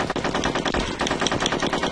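Fast machine-gun fire from the video game Conker's Bad Fur Day rattles in a steady, loud stream of evenly spaced shots for about two seconds, with no voices over it.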